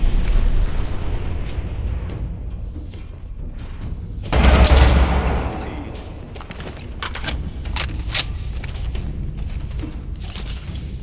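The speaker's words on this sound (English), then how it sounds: "essa arma, ela tem um recoil tão maravilhoso" Gunfire in the video game Fallout 4, a rapid series of sharp shots with one heavy blast near the middle and scattered clicks after it, loud and alone.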